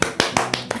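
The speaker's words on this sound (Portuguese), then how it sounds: "Aplausos para mim mesma." A woman claps for herself while tasting a dessert in a home kitchen, five quick, even claps in a sharp, close run.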